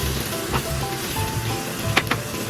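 Mushroom biryani masala with cumin powder and garam masala frying in oil with no water, giving a steady close sizzle with a few sharp spatter pops near the end.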